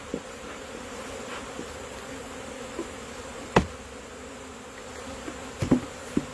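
Honeybees buzz around the hive entrance as they return home, a steady close hum with a few faint knocks and taps against the wood; quiet, with no voices.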